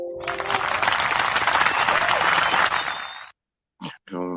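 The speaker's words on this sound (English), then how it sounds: "Matter of fact, give you a hand clap for that." A live podcast audience claps loudly and continuously for about three seconds, then the applause cuts off abruptly and a couple of brief voice fragments follow.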